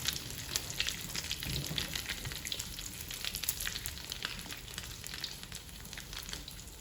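A Thai omelette (khai jiao) fries in hot oil, giving a steady, dense crackling sizzle with fine popping throughout, fairly soft and with no talking.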